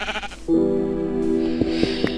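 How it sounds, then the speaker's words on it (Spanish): A sheep in the Minecraft video game bleats loudly after being run over, a sustained nasal cry followed by a few short clicky game sounds, with no talk. "salimos del árbol y atropellamos una oveja"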